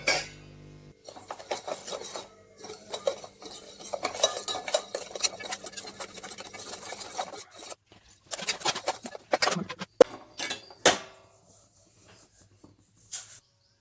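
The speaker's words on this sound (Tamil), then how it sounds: "ரவையை பாத்திரத்தில் போட்டு லோ ஃப்ளேமில் வறுத்து எடுத்துக்குவோம்." Semolina (rava) roasting in a pan over a low flame while a spoon stirs and scrapes it, giving steady gritty scratching and rubbing with short pauses and a few sharp clinks against the pan, no talking.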